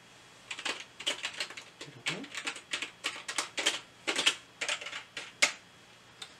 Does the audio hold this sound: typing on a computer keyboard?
yes